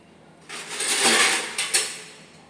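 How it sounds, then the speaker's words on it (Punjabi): A steel lid is set down over a chapati cooking on a pan, giving a short scraping metallic clatter followed by two quick light clinks as it settles, close and alone. "ਇਹ ਦੇਖੋ ਜੀ ਮੈਂ ਸਟੀਲ ਦਾ ਉੱਪਰ ਟੱਕਣ ਦੇਣ ਲੱਗੀ ਹਾਂ"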